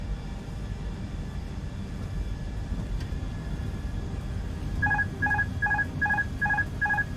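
The Fenix A320 autopilot disconnect warning in Microsoft Flight Simulator sounds as a repeating two-tone chime, six quick pulses near the end, over a constant low cockpit engine rumble.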